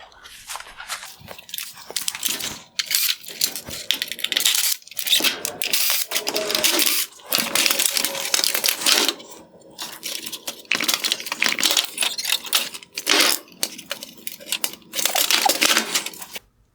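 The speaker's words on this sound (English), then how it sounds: "I will begin by removing the Phillips head screws holding the bezel in place" Phillips head screws being backed out of a halogen headlight bezel on a 2017–2019 Toyota Highlander produce close, uneven bursts of plastic clicking, ratcheting and rattling with short pauses between them.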